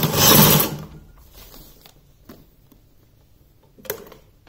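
Sewing machine stitching fabric for a small doll dress, a loud close burst of running stitches at the start, then quieter faint mechanical ticks and a brief second whir near the end.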